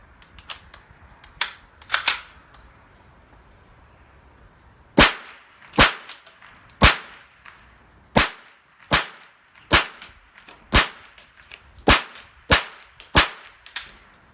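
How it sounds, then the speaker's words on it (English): A Ruger 10/22 M1 Carbine semi-auto rifle fires rimfire rounds at a range, with sharp, loud cracks spaced roughly a second apart. A few scattered shots come first, then a steady string of about a dozen. "There was 50 rounds of a mix of ammo running through a 1022, which is a semi-auto."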